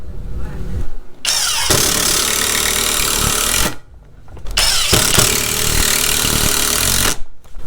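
Skil PWRCore 20V brushless drill driver driving 3-inch screws, two loud bursts of whirring motor noise separated by a short pause, up close with no talk.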